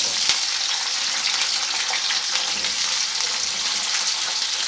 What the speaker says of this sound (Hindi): इसी में सबसे पहले गोभी फ्राई करके मैं निकाल लूँगा।